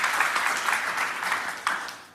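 A church congregation claps during a sermon, brisk and fairly loud close applause with a few sharper individual claps, thinning toward the end; no speech over it.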